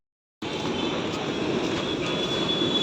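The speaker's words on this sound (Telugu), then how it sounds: "మెట్రోస్ అయితే కంటిన్యూగా వెళ్తూనే ఉంటాయి." Outside a Chennai metro station, a metro train rolls past with a steady loud rumble and a thin high whine. The rumble starts abruptly after a short silence and holds evenly, with no voices.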